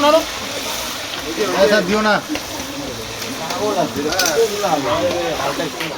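Potatoes fry in a pan, a soft steady sizzle and occasional scraping beneath a person talking almost continuously throughout.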